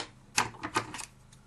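A few crisp scissor snips cutting yarn, close by, spaced unevenly with quiet pauses between the cuts.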